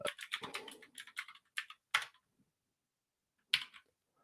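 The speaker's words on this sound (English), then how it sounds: "That's me typing in Vim commands into" Vim commands are typed on a computer keyboard at a console: a quick run of close key clicks, then a few separate keystrokes after pauses, with no talk.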